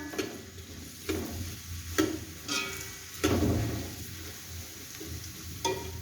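Onions cooking in a pan for nihari, a close, continuous sizzle broken by several stirring scrapes and taps of a spoon at irregular intervals, with no talk.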